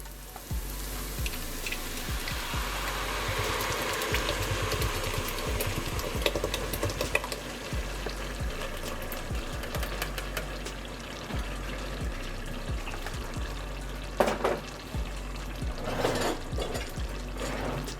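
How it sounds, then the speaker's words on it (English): Blended tomatoes pour steadily into a cooking pot, a continuous wet gushing and sizzling wash that runs for most of the stretch, loud and close, with a few clinks and a brief burst near the end. "Now we're gonna take those tomatoes that we blended up, we're gonna put them in the pot"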